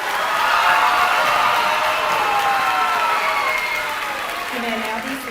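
A high school graduation audience applauds graduating students, sustained broad clapping and crowd noise with some cheering voices mixed in, steady and fairly loud across the whole stretch.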